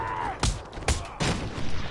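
Sniper rifle shots ring out in Batman: Arkham Asylum, three sharp loud cracks spaced about half a second apart, with a brief voice at the start.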